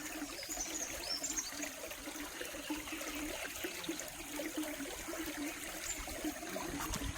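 Rainwater runs in a small stream, a faint, continuous trickling and burbling flow heard alone and fairly close.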